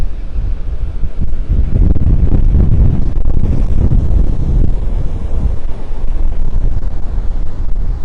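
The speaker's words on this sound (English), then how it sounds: "That wind is definitely picking up out here." Strong hurricane wind blasts across a beach, a loud constant roar buffeting the microphone with heavy low rumble and gusts, surf faintly mixed beneath, steady for the whole stretch.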